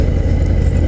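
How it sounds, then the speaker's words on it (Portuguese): Harley-Davidson FXDR 114 motorcycle with its 45-degree Milwaukee-Eight engine, a loud, close, low rumbling idle with steady pulsing throb. "E esse motor aqui já é um motor Harley Davidson. 45 graus, então faz som Harley Davidson."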